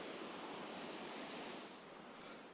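A fast mountain stream rushing downhill toward Austria along an alpine pass road, a steady loud broadband roar of water with no pauses.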